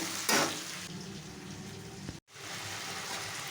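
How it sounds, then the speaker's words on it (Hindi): Spices frying in a hot pan give a steady, close sizzle with a brief louder burst near the start, then a continuous hiss that drops out for a moment before resuming, with no talking. "ये मैं मसाले को अच्छी तरह से भून लेती हूँ"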